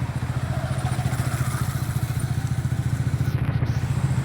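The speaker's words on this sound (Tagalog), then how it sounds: "Ayan mga motor natin." A motorcycle engine idles close by in Sibuyan, Romblon, a loud, steady low throb with a fast regular pulse and no talking over it.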